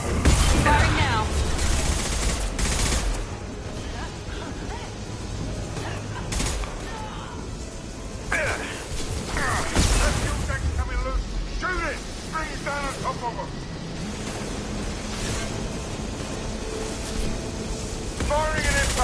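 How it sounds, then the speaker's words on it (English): Heavy weapons fire in a sustained fusillade, with loud booms and rapid bursts of gunfire throughout, mixed with shouted voices and mechanical clatter. "Firing an impact shot. Heavy weapons."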